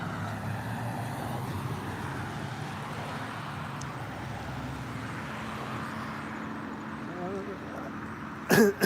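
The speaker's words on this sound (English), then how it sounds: "I hear an engine sound behind me at the same time." A road vehicle engine rumbles low and steady somewhere behind, a continuous drone like passing traffic, with a short sharp clatter near the end.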